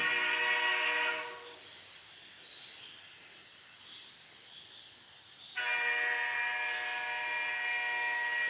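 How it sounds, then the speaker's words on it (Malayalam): A train passes with a loud, bright horn-like tone that cuts out, leaving a quieter rumble, then returns abruptly and holds steadily. "ട്രെയിനിൻ്റെ സൗണ്ട്"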